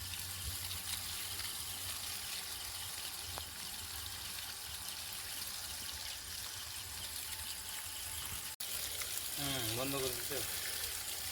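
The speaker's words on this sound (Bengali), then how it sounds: "এই যে জলটা ঝোড়ার উপরে ফেলছে, সেইখান থেকে একটু একটু করে শাকের গোড়ায় পড়ছে" Water is poured onto a basket set over leafy greens and trickles through to the plant roots, making a steady, soft splashing hiss. A voice talks near the end.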